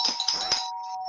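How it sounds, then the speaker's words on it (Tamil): A doorbell rings in the Grumpy Gran video game: a bright, clear electronic chime with a sharp onset and a short decay, heard alone with no talking. "யாரா காலிங் பெல் அடிக்கிறது?"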